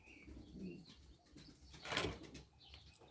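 Pigeons and their white chicks shuffle in a loft, with a burst of flapping wings near the middle and soft faint coos and rustling around it, close and quiet.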